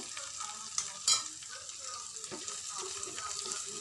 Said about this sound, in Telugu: జీడిపప్పులు కూడా కొంచెం వేగుతున్నాయి